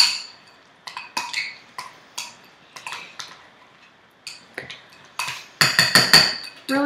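Burger ingredients are mixed in a bowl with a utensil, a series of sharp clinks and taps in an irregular rhythm, growing denser and louder near the end, close and alone.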